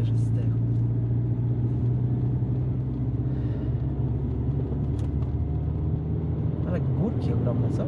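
A car labours up a steep hilly road near a forest tunnel, its engine nearly stalling in a steady low droning rumble that runs throughout, with voices talking over it.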